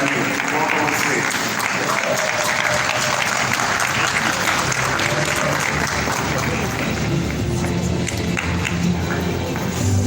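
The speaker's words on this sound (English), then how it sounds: "A round of applause for Desire Kateira and Kawonga Mugwanyu." A large crowd at a youth summit in Africa claps steadily and loudly throughout, a dense sustained wash of applause with faint voices mixed in.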